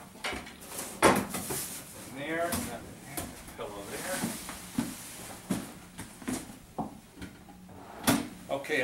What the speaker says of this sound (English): I'm going to go ahead and check my drawers, and I'm going to be looking for items inside of them